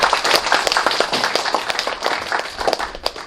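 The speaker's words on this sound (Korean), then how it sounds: "축사를 해주신 내빈 여러분들께 다시 한번 큰 박수 부탁드립니다." Audience at a Mapo district council monitoring report ceremony applauding guests, a dense steady burst of clapping from many hands, fairly loud, with faint voices mixed in.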